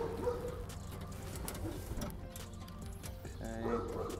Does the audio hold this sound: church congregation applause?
no